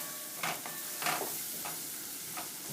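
Onions cooking down with turmeric in a pan for arroz con gandules give a low, steady sizzle. A few brief stirring scrapes break through it, and no one speaks.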